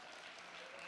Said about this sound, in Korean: 큰 박수와 함께 우리 축하해 주도록 하겠습니다.